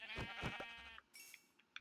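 A Minecraft sheep bleats in a few wavering, nasal cries up front, followed by a few soft, brief game clicks and blips in near silence.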